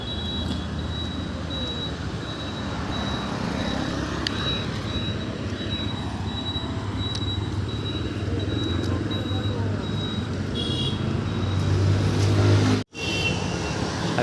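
Road traffic rolls past at a steady rumble, a continuous broad engine and tyre drone with a brief sharp dropout near the end and a low swell of a heavier vehicle close by.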